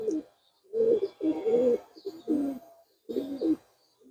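Pigeon cooing close by, five or six throaty rolling coos in short bursts separated by brief pauses, heard alone without talk.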